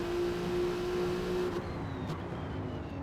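A 2024 Mustang engine in a racing game at Spa drones steadily at a constant pitch, a loud continuous motor tone that eases slightly near the end.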